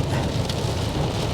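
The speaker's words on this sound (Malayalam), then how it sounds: "വാവ്, കിടിലൻ മഴ." Heavy rain falling in America, a dense, steady hiss of drops hitting the ground and standing water, loud and continuous with no voices.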